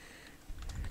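Keys on a computer keyboard are typed into an MS Word document, a quick burst of a few faint clicks close by in quiet.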